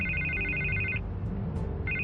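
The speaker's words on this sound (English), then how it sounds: "I can't get the phone to stop ringing." A telephone rings in the Batman: The Telltale Series video game, a steady electronic trill that cuts off and starts again over a low ambient hum, with no talking.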